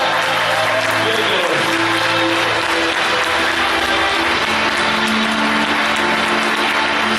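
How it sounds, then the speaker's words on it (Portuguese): Loud, sustained applause from a large church congregation, dense and continuous throughout, with a faint voice underneath at the start. "Pode aplaudir mais forte."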